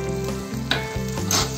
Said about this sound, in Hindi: गैस को लो फ्लेम में रख के 1 टेबलस्पून तेल डाला है और ये भीगी हुई चना दाल उसमें डाल